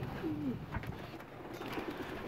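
Soft, low pigeon cooing in a quiet pigeon loft, a couple of murmuring calls over faint background noise.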